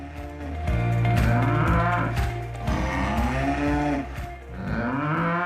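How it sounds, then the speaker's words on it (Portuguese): A cow moos repeatedly, loud and close, long lowing calls with rising and falling pitch following one another with brief gaps. "Mugido pra ele."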